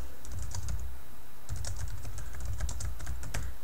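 Someone types on a computer keyboard in quick, close bursts of key clicks, with a short pause partway through.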